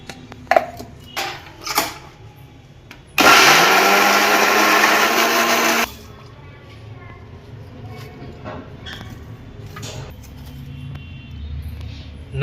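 A mixer grinder whirs loudly for about three seconds, grinding green garlic and two pieces of ginger, then stops abruptly; quieter kitchen clatter and knocks come before and after.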